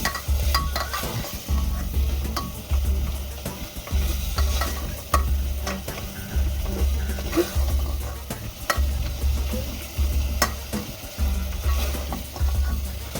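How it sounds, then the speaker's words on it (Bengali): Spices with Kashmiri red chili powder are sautéed in a pan, heard as rhythmic scraping stir strokes about once a second over a soft ongoing sizzle, close and moderately loud. "সুন্দর করে একটু কষিয়ে নেবো এবার মশলাগুলো দিয়ে"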